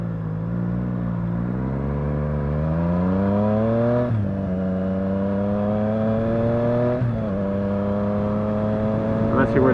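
A motorcycle's exhaust drones steadily while riding, its pitch climbing through the gears with two brief drops at the shifts, loud and close, with wind noise and a rider talking over it.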